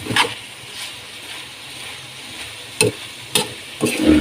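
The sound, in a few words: ladle stirring sautéed bitter melon in pan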